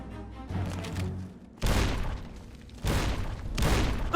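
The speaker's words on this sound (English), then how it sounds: "watch out for the explosions" Explosions from detonated traps in Fallout: New Vegas: a few loud, close booms arrive in uneven bursts with rumbling tails, over a quieter background of game sound.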